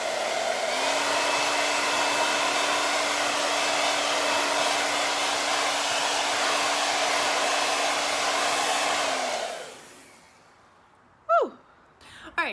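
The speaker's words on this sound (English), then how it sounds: "I just wanted to do a quick blow dryer test to see if these things stay on" A hair dryer blows with a steady, loud whoosh and hum for several seconds, then switches off; a couple of faint breaths follow in the quiet.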